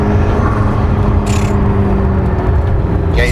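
A McLaren P1 hypercar gives a loud, constant engine and turbo whir from close by, broken twice by brief hissing bursts of the blow-off valve.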